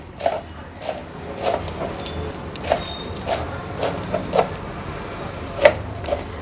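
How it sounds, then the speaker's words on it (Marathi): A knife finely chops washed spinach leaves on a board with sharp, evenly spaced thuds about every half second, close and distinct above a low background hum. "हा पालक जो आपण स्वच्छ धुवून घेतलाय हा अगदी बारीक चिरून घेऊया"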